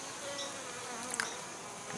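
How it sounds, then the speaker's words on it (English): A steady, dense insect buzz fills the whole stretch, like many bees humming together at close range in a hive feeder, with a few slightly louder passes. "the feeder was completely full of bees"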